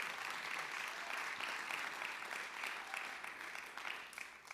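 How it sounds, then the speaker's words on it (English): Steady applause from an audience at a high school fine arts awards ceremony, a dense wash of clapping that holds for several seconds and fades slightly near the end, fairly quiet overall. "I do want to just clap and cheer for the fact that we are here doing this live"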